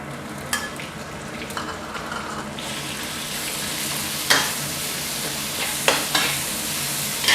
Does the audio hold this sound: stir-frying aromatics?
yes